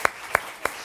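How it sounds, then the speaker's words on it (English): Three slow, evenly spaced hand claps from one person, sharp and close, with quiet room tone between them. "I'll clap for that"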